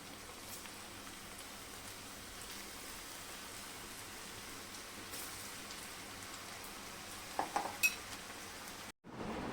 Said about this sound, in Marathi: बाहेर मस्त असा पाऊस पडते